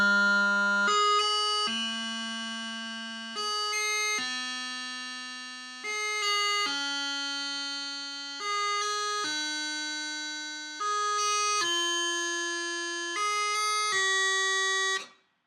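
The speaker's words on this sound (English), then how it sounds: "So we're going to blow through the slow G." Slow G grace note scale on a wind instrument: eleven or so sustained, reedy notes step upward one after another, each opened by a quick grace-note flick, steady and fairly loud with no talking.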